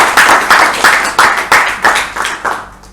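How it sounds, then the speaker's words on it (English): Clapping at a Toastmasters club meeting in Bangalore: a close, loud burst of hand claps from a small group, coming in strong rhythmic waves of roughly eight to ten sharp peaks before tapering off. "Another round of applause to Toastmaster Somshekar."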